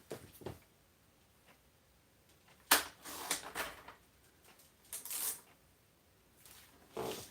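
Paper card being trimmed with a cutter, giving a few sharp clicks and slicing scrapes in short bursts separated by quiet pauses.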